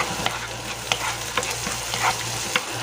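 Onion, garlic and tomato sauté in hot oil for spicy ginataang dilis, a steady close sizzle broken by sharp scraping stir strokes about every half second.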